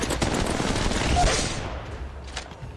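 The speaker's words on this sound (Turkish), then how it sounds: "Abi arkadan silah sesi geliyor." Rapid automatic gunfire in the mobile game Apex Legends Mobile rattles in dense bursts, loud and close, then tapers into fainter distant shots near the end.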